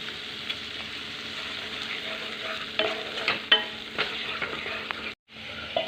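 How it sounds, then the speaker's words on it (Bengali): Fried potatoes sizzle in oil and spice paste while a spoon scrapes and stirs them, with scattered clinks against the pan and a brief pause near the end. "মশলার সাথে আলুগুলো কষিয়ে নিই"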